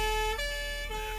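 A police car siren from the video game Tasty Planet Forever wails steadily and loudly, its electronic tone stepping between pitches over a short stretch.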